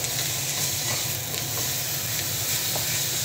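Onion frying in cooking oil for a mung bean and vegetable dish, a dense continuous sizzle with faint stirring, loud and close throughout.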